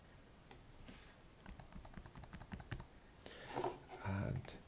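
Computer keyboard keys tapped in quick, uneven bursts while entering a wall length in floor-plan software, close and fairly quiet, with a louder cluster of presses near the end.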